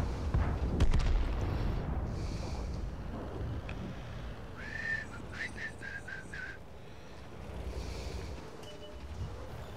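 A tank cannon fires in World of Tanks (Grosstraktor): one heavy booming shot near the start that rumbles away, followed by quieter game ambience with a faint whistling, mechanical tone.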